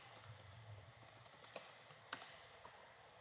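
A computer keyboard clicks quietly as a short folder name is typed, a handful of light, uneven keystrokes in a soft, close burst with faint room hum beneath.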